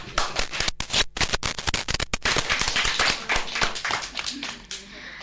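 Applause from a crowd, dense rapid clapping that swells and continues steadily for several seconds, fairly close and loud.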